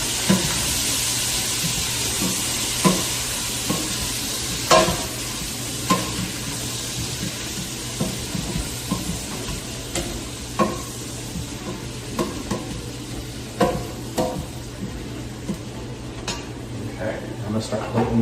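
Food stirred and tossed in a hot pan sizzles and hisses steadily, with repeated scraping knocks of the utensil against the pan and a voice talking over it.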